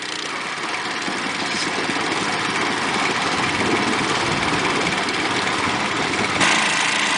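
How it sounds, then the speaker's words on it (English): Four water pumps run steadily as they fill 4 ft AquaDam hoses at a South Lake Tahoe airport expansion site, a continuous loud engine drone with no pauses. "All 4 hoses are in, all 4 pumps are pumping."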